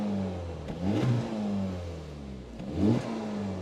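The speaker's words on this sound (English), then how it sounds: "let's give this car a rev in comfort mode first." A Honda Civic Type R FL5 in comfort mode, revved twice while stationary, each blip rising sharply then falling back to a steady idle; close and loud with no talking.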